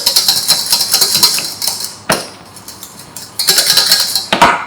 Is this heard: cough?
no